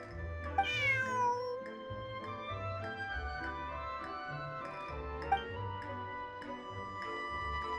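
A cat meows in Genshin Impact during a side event about a missing cat: one rising, wavering meow near the start, with soft game music and ambient tones continuing underneath.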